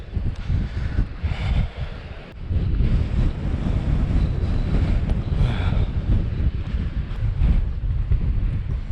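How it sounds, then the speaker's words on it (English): Strong wind buffets the microphone on the Wales Coast Path between Whitesands Bay and Porthclais, a loud, steady roar that rises after the first couple of seconds and stays constant, with no voices. "It's a bit windy."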